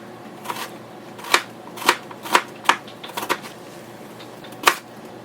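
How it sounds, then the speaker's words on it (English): A knife chops vegetables into thin sticks for kimchi, giving about seven sharp, close cutting taps at irregular intervals against a board, with a quiet pause between them. "and then you're going to cut them in little sticks."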